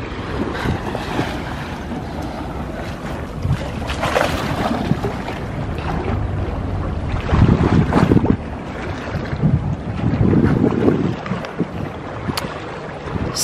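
Strong wind buffets the microphone by the sea at Doha Corniche, with waves and surf rolling underneath and louder gusts around the middle and near the end.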